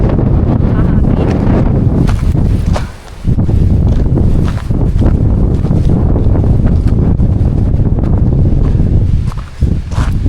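Strong, continuous wind buffeting the microphone with heavy low rumble by a rocky riverbed at Angat Dam in the Philippines, briefly easing twice, no voices.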